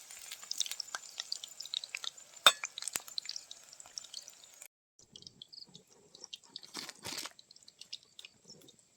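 Chicken pakora pieces frying gently in oil on a low flame, a soft, sparse crackle of scattered pops that thins out partway, then picks up again with a few louder bursts.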